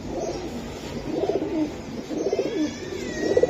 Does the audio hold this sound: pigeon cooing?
yes